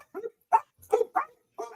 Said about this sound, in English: Got your dogs going off there. Someone's at the door.